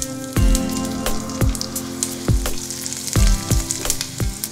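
Garlic, mustard seeds and cumin sizzling in hot ghee for a yogurt tempering: loud, close, continuous frying crackle with sharp pops recurring every half second or so.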